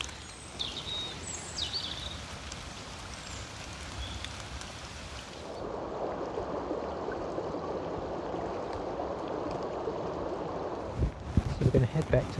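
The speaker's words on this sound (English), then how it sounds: "just a little river coming through here. I'll get down a bit closer so you can hear the flow" A small river runs through woodland, giving a steady broadband rush of water that grows fuller and closer partway through, with some birdsong early on and handling bumps near the end.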